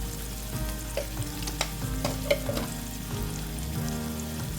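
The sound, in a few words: onion cooking in a pan with salt added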